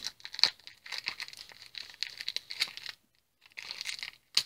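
A parcel being unboxed, with tape peeling and cardboard and packaging crinkling in close, irregular bursts, followed by a brief pause before more rustling and tearing.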